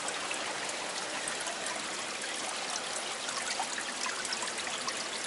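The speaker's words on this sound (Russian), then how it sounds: "вот это родник." Water from a mountain spring at a recreation area in Benoy, Chechnya, trickles and babbles in a steady, close, continuous rush with no voices over it.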